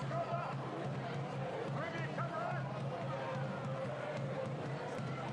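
Crowd at a women's A-League football match at Leichhardt Oval, Sydney FC against Canberra United, a steady broad murmur of spectators beneath a commentator's voice.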